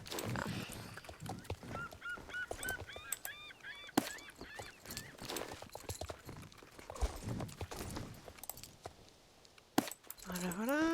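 Video game chicken calls, clucks and honk-like squawks, repeat in short bursts with clip-clopping horse hooves and scattered clatter; a person talks intermittently throughout.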